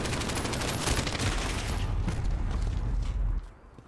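Sustained burst of PKM machine-gun fire in a first-person shooter video game, dense rapid shots running for about three and a half seconds before cutting off abruptly.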